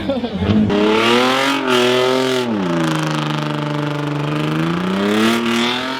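A car engine revving loudly up close at a legal street-racing pit in Atlanta, with a sustained rough drone that rises and falls and a buzzy, lawnmower-like tone, while people talk over it.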